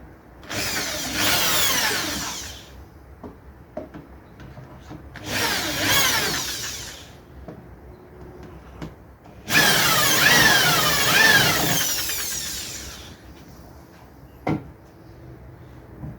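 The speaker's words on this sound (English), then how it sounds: "I'll be drilling them through with a 12mm" A corded power drill bores holes through a wooden recurve bow limb in three separate whining bursts of about two to three seconds each, with quiet handling knocks and taps between them.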